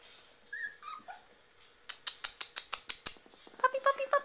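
Puppies whimper and squeal in high, short cries, then a rapid run of sharp yips and whines, close and fairly loud, with no talking.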